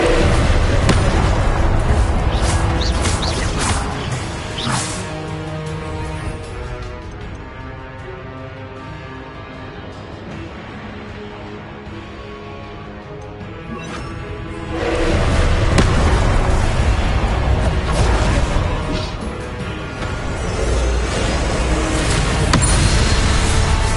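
Spell blasts from the video game Hogwarts Legacy, Expelliarmus and Confringo, erupt as loud booming bursts and crackling impacts, fading into a quieter stretch midway before a fresh flurry of blasts returns.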